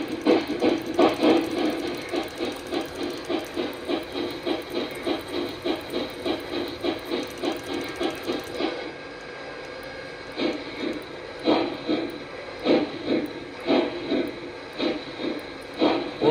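A Slippy EM-1 model steam locomotive chuffs in a steady, rapid rhythm of even exhaust beats with hiss, then slows into fewer, more spaced puffs, close by and alone.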